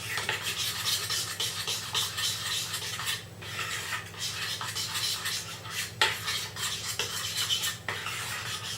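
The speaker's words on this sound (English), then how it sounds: "So it's on a fairly low heat and stirring continuously." A spoon stirs continuously in a pan of sour cream, chocolate and sugar over low heat, with close, steady scraping and clinking against the pan and a low background hum.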